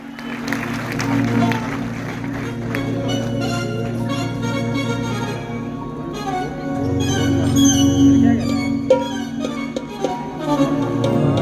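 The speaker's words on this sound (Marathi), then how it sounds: "जोरदार टाळ्या वाजवून यांचं स्वागत झालं पाहिजे" Applause rises from an audience at an outdoor Konkan felicitation ceremony welcoming honorees, steady and sustained across the whole stretch, with music and talk sounding over it.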